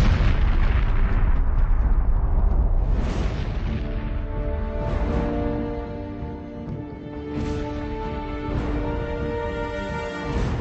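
A series of heavy booming blasts rumble one after another, each decaying into a lingering roar, with tonal ringing between them.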